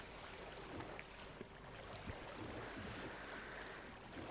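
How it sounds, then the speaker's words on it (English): Water draining in the video game Drain Sim, a steady, diffuse rushing wash that runs continuously at moderate level with a few faint clicks, no voices. "Just the sound of the water. Just the water draining."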